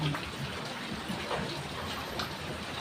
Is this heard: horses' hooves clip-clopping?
no